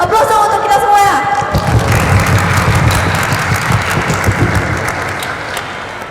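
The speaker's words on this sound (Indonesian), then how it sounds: "Aplaus dong untuk kita semua ya." Audience applause at an Islamic school drama performance, a steady wash of many hands clapping with crowd noise that carries on for the whole stretch and slowly tapers toward the end.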